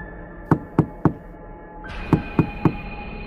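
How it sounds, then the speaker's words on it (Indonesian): Knocking on the door of a long-abandoned house, two sets of three firm raps separated by a short pause, close and distinct against a faint background hum. "Hasan pun kemudian mengetuk pintu."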